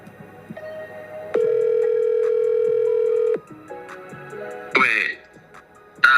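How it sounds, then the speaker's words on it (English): A phone call rings out during a livestream, with steady electronic telephone tones held for a couple of seconds and then shifting pitch, loud and close, and a brief vocal sound near the end. "She ended up calling Faze K-Song on stream"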